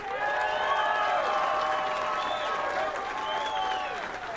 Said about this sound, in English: how about one more round of applause for our two finalists?